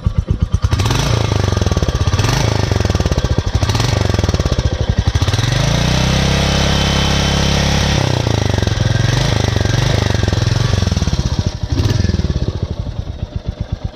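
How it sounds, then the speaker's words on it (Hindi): A Royal Enfield Meteor 350 motorcycle, 2023 Supernova Blue model, idles with a loud, steady thumping single-cylinder exhaust, close by, its beat briefly swelling around the middle before settling back into an even pulse. "अब आप सुनेंगे इसका एग्जॉस्ट साउंड।"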